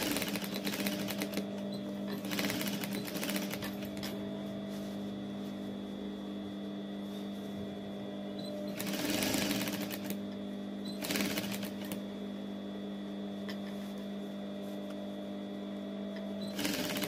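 A sewing machine runs continuously while stitching a blouse, a steady mechanical whir with a constant hum and brief louder bursts of rapid clatter, close and fairly quiet.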